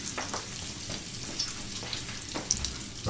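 Spaghetti tossed in sizzling butter in a pan, a steady close frying hiss with soft stirring scrapes and small crackles running throughout, with no talking.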